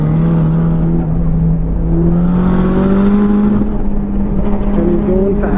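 Nissan S15 drift car engine holding a loud, steady drone with gradually climbing revs and gear-change dips, heard close and continuous with no speech over it.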